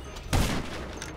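Video game gunfire in a free-for-all match bursts out as a loud, close volley, a dense crackle of shots that trails into a lingering rumble with quieter pops afterward.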